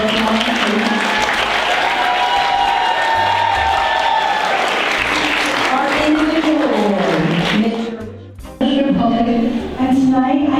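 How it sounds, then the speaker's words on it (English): Audience at a foundation gala award ceremony applauding loudly and continuously, dense clapping with some cheering, briefly dipping near the end before swelling again. "We give a big round of applause."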